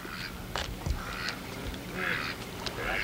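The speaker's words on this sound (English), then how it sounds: "That's another duck." Ducks quacking outdoors on a school trip to Mexico, several short nasal calls scattered across a few seconds against a noisy, windy background, moderately near with faint bumps of handling.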